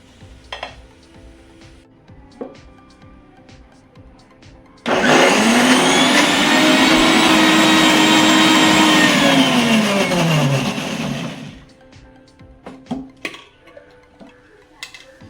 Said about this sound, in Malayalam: തേങ്ങ നല്ലവണ്ണം അരഞ്ഞു വന്നിട്ടുണ്ട്.